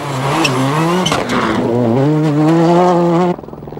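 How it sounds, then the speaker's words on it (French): A Ford Focus WRC rally car drives fast on a rally stage. Its engine gives a loud, close, sustained roar that climbs steadily in pitch before cutting away abruptly near the end. "La Ford Focus WRC va très vite, elle tient le coup et elle semble épargner les pneumatiques"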